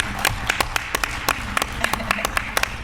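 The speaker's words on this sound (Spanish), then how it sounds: "Por favor, un aplauso para ella" An audience applauds at a book talk for the novel "La casa del algodón" in Zamora, with steady, moderately loud claps from a small crowd and a faint murmur underneath.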